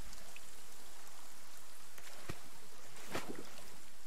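Heavy rain in a forest setting makes a steady, fairly quiet broadband hiss, with a few sharper drop impacts standing out near the end and no other sound over it.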